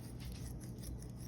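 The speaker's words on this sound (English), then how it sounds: "And then I use scissors because it's easier." Scissors cut through raw chicken breasts in a home kitchen, a soft, continuous rubbing and snipping texture, close and quiet with no voices.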